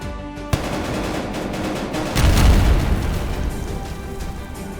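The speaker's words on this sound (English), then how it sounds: "The mine is cleared and all awaiting blasts are set off sequentially." Sequential blasts set off in underground rock at a cleared mine, a sharp initial report followed by a dense, continuous rumbling roar that swells midway and stays loud throughout.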